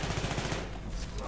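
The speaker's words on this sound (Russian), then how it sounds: "Что-то я не пойму, где тут отсюда выстрел доносится." Rapid gunfire rattles in Battlefield 3, a dense, loud automatic burst lasting just over a second.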